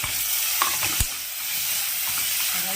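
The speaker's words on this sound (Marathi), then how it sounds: "आता आपण याच्यात टमॅटो टाकून घेऊ" Chopped tomatoes drop into browned onions frying in a pan, and the sizzle flares briefly under a couple of quick scrapes before settling into a steady hiss.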